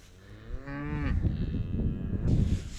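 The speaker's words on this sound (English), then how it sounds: "These are Larry's cows" A neighbor's cows on a farm, one clear close moo rising and falling, followed by rustling and shuffling movement nearby.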